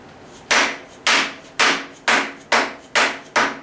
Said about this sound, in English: you take a dead blow hammer, like one of these,